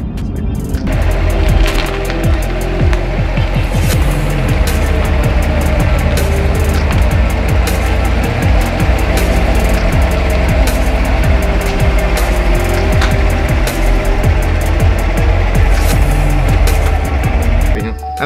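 Corvette C7 Stingray 3LT driven fast, a loud, steady engine roar and road noise from inside the cabin throughout, with rising and falling engine tones.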